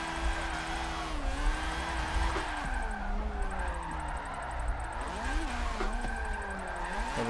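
A car drifts in the Forza Motorsport 7 racing game, its engine droning steadily and rising and falling in pitch as the revs change, with tire and road noise underneath, fairly quiet throughout.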